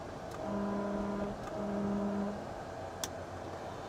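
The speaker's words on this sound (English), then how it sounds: "And the best horn." A 1972 Mercedes-Benz car sounds its horn in two steady, sustained tones, each lasting close to a second, over quiet outdoor background noise.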